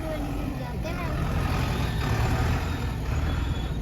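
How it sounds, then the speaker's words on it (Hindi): Road traffic with trucks on the way to the Mahamai fair in Dibiyapur, Auraiya: a steady low engine rumble and passing vehicles, with voices talking over it. "यहाँ पे थोड़ा ट्रैफिक मिल गया था"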